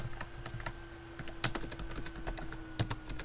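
Steady typing on a computer keyboard while entering text into an Excel spreadsheet, quick even run of soft key clicks with a couple of louder taps, close up and without speech.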